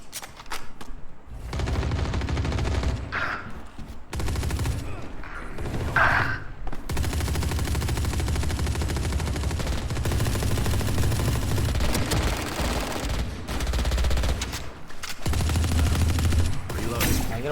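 Rapid bursts of gunfire from a Valorant match, loud and sustained with heavy recoil, rattling in dense volleys nearly throughout, with a player's voice briefly heard among the shots.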